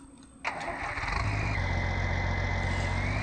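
New Holland tractor engine in Farming Simulator 19 starts with a sharp catch, then settles into a steady, close diesel idle with a low rumble that holds to the end.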